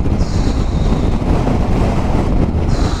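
Strong icy wind in the Cévennes hills buffets a motorcycle rider's microphone, a loud, constant low rumbling roar of gusts battering the mic throughout, with no speech.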